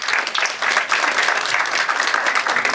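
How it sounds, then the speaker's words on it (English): An audience at an awards event gives a brief burst of steady, dense clapping from many hands, fairly loud and continuous. "you can have a clapping for Professor here."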